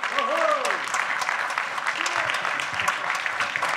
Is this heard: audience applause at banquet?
yes